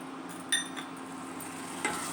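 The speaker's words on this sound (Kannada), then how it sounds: "ಈಗ ಅದಕ್ಕೆ ನಾವು ತುಪ್ಪದಲ್ಲಿ ಫ್ರೈ ಮಾಡಿರುವಂಥ ದ್ರಾಕ್ಷಿ ಗೋಡಂಬಿನ ಹಾಕಿ ಮಿಕ್ಸ್" Spoon stirring ghee-fried raisins and cashews into thick white pumpkin halwa in a pan, soft scraping with two brief clinks over a steady low sizzle, close and alone.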